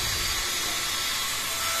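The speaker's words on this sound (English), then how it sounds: "you can easily, very easily clean this using this handheld vacuum cleaner" Small handheld vacuum cleaner sucking up dust, a steady close airy whir that holds at an even level throughout with no pauses.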